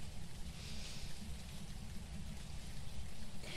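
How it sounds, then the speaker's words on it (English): Steady rain falls in a Phasmophobia game level, a dense, even patter that holds constant throughout with no voices. "Listening to the rain"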